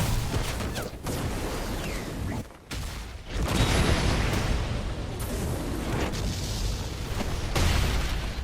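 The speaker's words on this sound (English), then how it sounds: "how would a singular kick cause an explosion? And I mean massive explosion." A massive explosion from a kick in a Roblox battlegrounds game gives heavy booming bursts and broadband blasts that repeat through the stretch, with short gaps between the loud hits.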